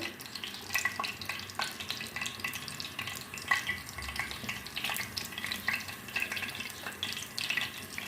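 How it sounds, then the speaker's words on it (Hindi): Macaroni kebabs fry in hot oil over a low flame, giving a continuous close crackling sizzle with bursts of popping and occasional stirring clatter. "अब इसमें हम डाल देंगे एक एक करके और इनको हम फ्राई कर लेंगे।"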